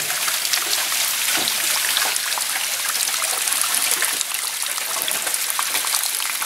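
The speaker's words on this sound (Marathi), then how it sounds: "म्हणजे खडकातून असं पाणी निघतं" Spring water seeps from rock into a well during a drought, a loud, continuous splashing trickle with a steady wash of falling water and no voices.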